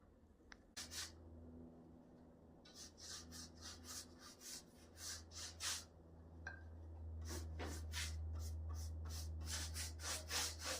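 Rust-Oleum rust dissolver is brushed onto rusty metal in repeated short bristle strokes, close and fairly faint, over a steady low background hum.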